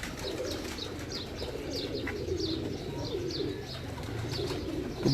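Pigeons coo in a soft, repeated rolling rhythm, several birds close by over a low background murmur, with faint chirps mixed in.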